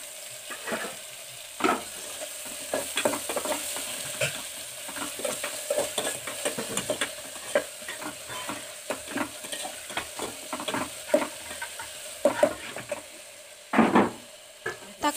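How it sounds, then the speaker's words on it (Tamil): Chopped tomatoes and onions sauté in oil in a pan, a continuous sizzle broken by frequent irregular scrapes and knocks of stirring, close and clear without talk. "தக்காளி, வெங்காயம் இதெல்லாம் நல்லா வதங்கிட்டோம் எண்ணெயிலேயே"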